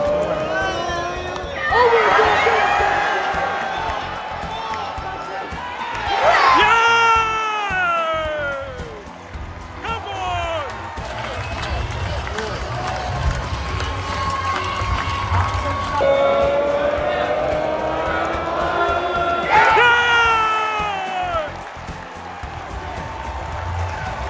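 A cricket crowd at The Hundred in Cardiff cheers and roars in repeated swelling waves, with whistles and shouts rising over a continuous murmur; people talk in the foreground throughout.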